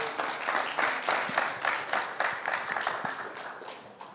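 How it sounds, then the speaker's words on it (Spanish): A conference audience applauds steadily for several seconds, a dense wash of many hands clapping at moderate distance, with no talk over it. "Un aplauso, por favor."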